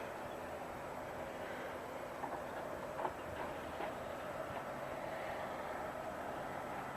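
A freight train rolls across the Ranchero bridge in Hesperia, a steady, fairly distant rumble and rail clatter that holds evenly throughout, with a few faint knocks rising briefly around the middle.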